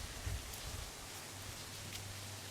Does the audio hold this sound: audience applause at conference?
no